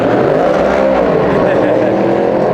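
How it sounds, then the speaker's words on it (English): Loud, continuous roar of NASCAR race car engines droning on a track at the Los Angeles Coliseum, close and sustained throughout. "we're hearing the cars going out on track"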